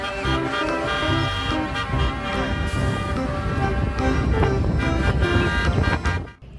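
A toy police car plays its electronic horn and siren tune, a steady, bright, tonal honking that runs loud and continuous for about six seconds before cutting off abruptly.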